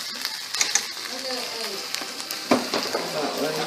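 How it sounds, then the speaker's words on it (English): Onion added to a soup pot sizzles and fries with a soft crackling hiss, stirred with scattered clicks and scrapes, while a voice talks over it. "So what I'm going to do now is add the onion."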